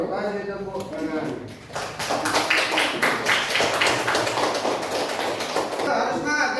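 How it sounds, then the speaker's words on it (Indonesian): Audience applause after a group presentation: a dense burst of many hands clapping rises and fills the room for several seconds, with voices over the start and the end. "Kasih tepuk tangan."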